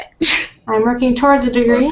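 One sharp sneeze bursts out close to the microphone, short and loud, followed immediately by a person speaking.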